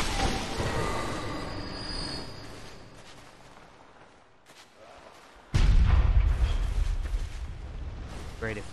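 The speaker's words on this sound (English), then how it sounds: "This is the guy that's firing the cannon." Booming cannon blasts in Bloodborne's Pthumerian Labyrinth, with a long rumbling echo that fades into quiet before another loud explosive hit.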